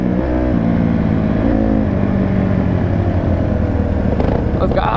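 A Suzuki DRZ supermoto engine revs and runs nearby, a rough, pulsing motor buzz that holds steady throughout, with voices talking over it.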